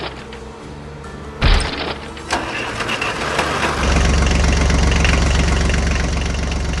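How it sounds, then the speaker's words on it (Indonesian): A green tractor's engine runs steadily as it drives along, a rough mid-pitched rumble that builds after a couple of sharp knocks and then holds loud and continuous near at hand. "sementara traktor hijau terus melaju"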